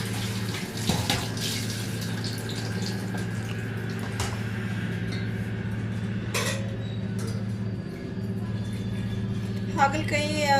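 Dishes washed under a running kitchen tap, with steady flowing water and occasional clinks of pots and utensils, while a low hum runs underneath throughout.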